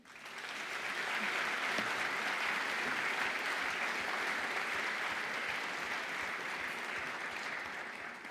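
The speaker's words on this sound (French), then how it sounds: "je voudrais qu'on les applaudisse" An audience applauds at a foundation event, clapping rising swiftly to a full, even roar and holding steady for several seconds before easing slightly near the end.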